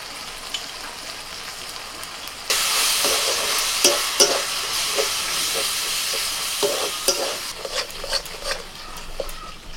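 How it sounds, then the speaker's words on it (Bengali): Turmeric, cumin and Kashmiri chili powder frying in hot oil, a sudden loud sizzle bursting in partway through, followed by steady hissing and intermittent stirring scrapes, close up. "মশলা বেশ একটু সময় নিয়ে কষিয়ে নিতে হবে।"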